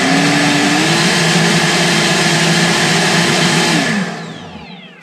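A NASUM 40V cordless leaf blower rated 480 CFM and 140 MPH roars at turbo speed, a loud steady whine held near for about four seconds before the motor winds down and fades.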